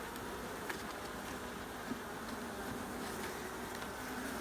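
Honeybees in a hive colony hum in a dense, continuous drone, close and steady, with no voices over it.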